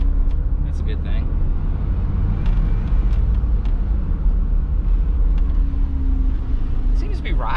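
Chevrolet OBS Blazer that had been sitting for a while, rolling slowly around the block with a steady low engine and road rumble throughout and a few faint clicks and rattles.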